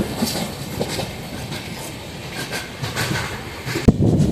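A Konkan Railway train runs through a tunnel, its steady rumbling roar and rail clatter filling the space, with a sharp knock near the end before the noise swells again.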